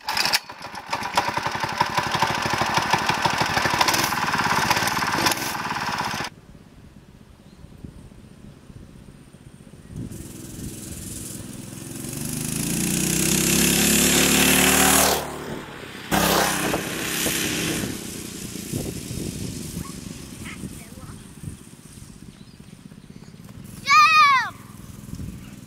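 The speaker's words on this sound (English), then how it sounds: "I like your mini bike." A small mini bike engine runs and revs close by, its buzzing drone rising and dropping in bursts with pauses between, while people talk nearby.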